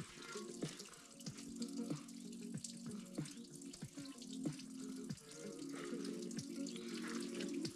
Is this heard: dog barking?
no